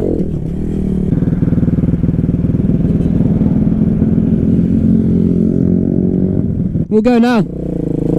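A 2017 KTM Duke 125 motorcycle engine drones steadily under chatter, then a loud, brief whooshing pass rises and falls near the end as the bike flies by close.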